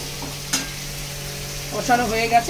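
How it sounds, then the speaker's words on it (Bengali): Spice masala for a home-style mocha chingri fries and is stirred in a pan: a steady close sizzle broken by scraping spoon strokes, with a sharp clack near the start and louder stirring toward the end. "এবারে দেখুন আমার মশলাটা ভালো করে প্রায় কষানো হয়ে গেছে"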